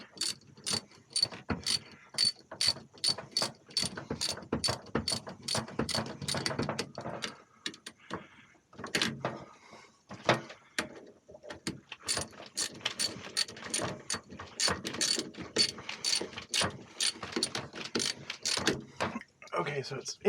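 A ratchet tightens a part on a Lippert Level Up RV hydraulic leveling system, giving rapid, close clicking bursts in repeated runs with brief pauses between strokes.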